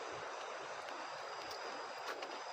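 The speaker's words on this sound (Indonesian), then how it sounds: "Mana dengar suara sungai lagi di bawah tuh." A river flowing below in a dense forest gives a steady, broadband rushing wash, continuous and moderately loud throughout with no voices.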